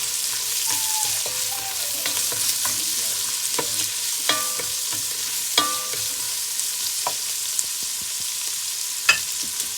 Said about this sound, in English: So I'm gonna let that saute for about 3 minutes